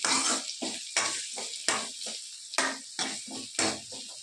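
Shallots, garlic and curry leaves sizzle in hot oil while a utensil stirs in regular strokes, the sizzle surging with each scrape, close up and without talk.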